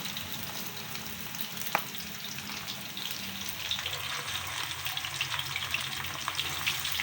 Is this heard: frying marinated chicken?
yes